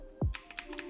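Keys tapped on a computer keyboard, a thump followed by a quick run of four or five close, crisp clicks in under a second.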